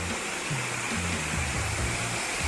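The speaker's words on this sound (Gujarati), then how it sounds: "સરસ મજાનો ધોધ પડે છે અને શિવઘાટ કહે છે" The Shivghat waterfall near Don, Gujarat, on the road to Ahwa, gives a constant full roar of falling water. A low droning tone runs underneath, and no one speaks.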